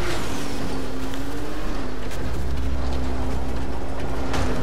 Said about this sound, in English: This car is very, very loud.